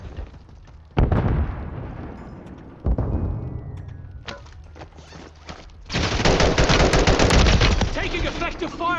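Video game gunfire in rapid bursts and sharp volleys, loud and close, with heavy, sustained firing toward the end and brief shouted voices mixed in.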